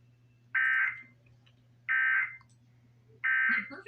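An Emergency Alert System attention tone for an Amber Alert, heard as three evenly spaced loud electronic beeps, each under half a second long, over a faint low hum, with no voice.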